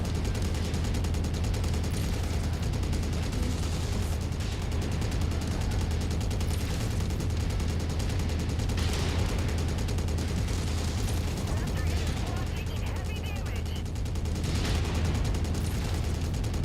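Rapid machine gun fire rattles on without pause in a MechWarrior 5: Mercenaries mech fight, a dense steady stream of shots mixed with booms and mechanical clatter under faint talk.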